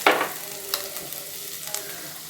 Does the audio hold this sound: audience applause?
no